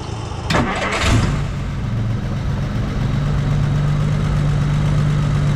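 A 1952 Deuce car engine cranks briefly after the fuel pump and key are switched on, catches within about a second and settles into a loud, steady idle close by, with no talk.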